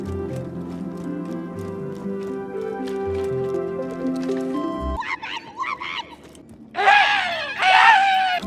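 The screaming gun in Borderlands 2 fires, its shrill voice-like shrieks bursting out loudly in two close bouts after a stretch of droning tones.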